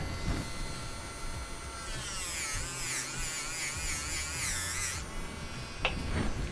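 A Dremel rotary tool grinds a spoon pendant, giving a high, whining buzz that rises in pitch and wavers for about three seconds against a quieter background hum.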